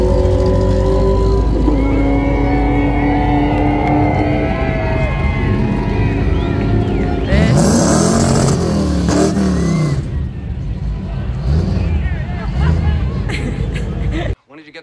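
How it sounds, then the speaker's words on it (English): An RV drives past at Bandimere Speedway on a test-and-tune day, its engine rumble swelling and fading amid crowd noise and wind, while people talk over it. "Oh, that there, that, uh, that's an RV."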